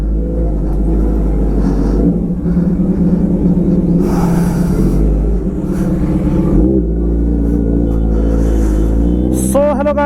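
A super bike engine rumbles and revs loudly and close by on a street in Dehradun, with a deep steady growl, brief throttle swells and a rising rev near the end.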